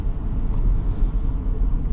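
A 2019 Porsche Cayenne AWD's engine rumbles low and steady as it accelerates from a stop on a wet road, with a hiss of road noise underneath, heard from inside or close by.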